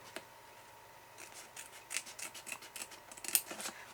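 Scissors snip into folded paper card for a cube card, a run of quiet crisp cuts and rustles that speed up toward the end, close up with no talking.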